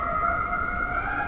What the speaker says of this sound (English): Lots of sirens around here.